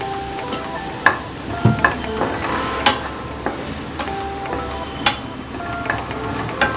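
Coconut paste for a brinjal (vazhuthananga) avial warms in a pan with coconut oil while being stirred, giving a soft continuous sizzle broken by scattered clicks and scrapes of the spoon against the pan.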